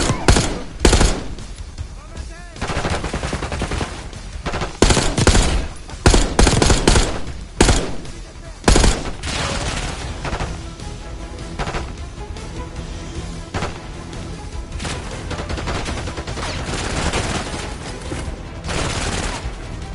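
Gunfire in the Call of Duty Black Ops 6 campaign: loud bursts of rapid automatic fire and sharp single shots, clustered in heavy volleys then thinning into a continuous chaotic firefight with shouting voices.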